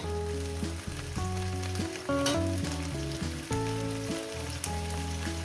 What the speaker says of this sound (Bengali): ঢেঁড়সগুলো দিয়ে দিলাম দিয়ে আমি আরও চার মিনিট ভেজে নেব